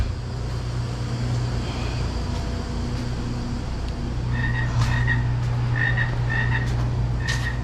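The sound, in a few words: frog croaking in a store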